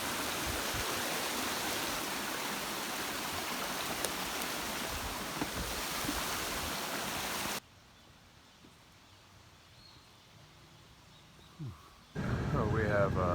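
Steady rushing water from a stream flows loud and close along a hiking trail between Osaka and Kyoto, then drops away abruptly to a quiet stretch before a burst of voices returns.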